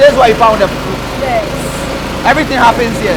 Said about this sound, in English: Pardon the noise, but they are using the fufu machine